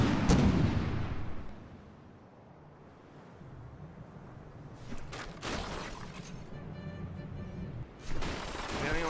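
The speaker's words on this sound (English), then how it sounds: "those secondary fragmentation rounds are doing some serious work against the Nibbler's" Secondary fragmentation rounds fired by frigates in the naval game From The Depths, heard as a heavy boom that opens the clip and then several sharp cracks later on, over a rushing sea and wind backdrop.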